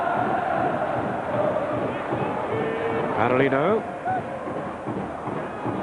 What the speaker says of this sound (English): It's not a huge crowd in the stadium, but they're making plenty of noise.